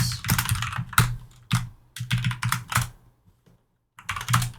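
Close computer keyboard typing while entering numbers into a C++ program, with crisp keystrokes in quick bursts separated by short pauses and a brief silent gap before a final run.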